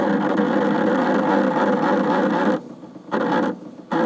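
A 1960s AV Instruments classroom record player turntable, its idler drive dry and in need of oil, set to 78 speed, runs with a steady mechanical whirring hum, then briefly cuts out twice near the end.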